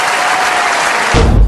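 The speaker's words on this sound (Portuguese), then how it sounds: "Palmas." Short burst of applause in a Rainbow Six session, dense clapping that swells louder with a low thump near the end.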